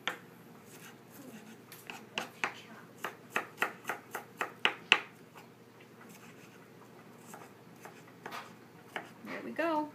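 A knife roughly chopping onion on a cutting board for a Dominican guandules dish, a quick run of about a dozen sharp, close taps that then slows to scattered cuts, with light kitchen noise around them.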